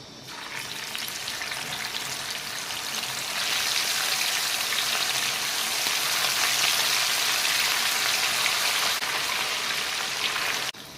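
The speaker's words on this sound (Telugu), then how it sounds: "ఒక్కొక్కటిగా దీంట్లో ఫ్రై చేసుకుందాం" Turmeric- and salt-rubbed fish pieces sizzle in hot oil, a steady crackling hiss that swells as more pieces go in and holds loud and even, with no talking.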